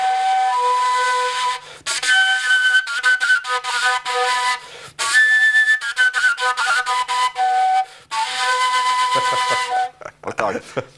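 A breathy sopilka folk flute, played without its whistle, plays a lively, bright melody in quick phrases with short pauses, followed by a few faint knocks and handling sounds.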